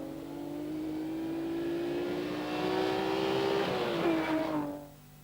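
A Mazda rally car driving a gravel rally stage in 1988, its engine climbing steadily in pitch as it accelerates through the gears before easing off and fading quickly.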